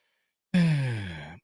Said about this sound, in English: she's going to have a baby, doing a blowing, a breathing. That's a noise.